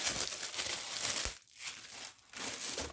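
Plastic foil packaging for a lip gloss making kit crinkles and rustles up close for several seconds, with brief pauses between bursts.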